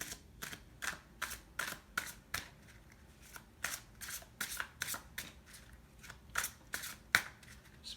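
Tarot cards are shuffled by hand in quick, crisp bursts of riffling and slapping, repeated irregularly at close range against a quiet background.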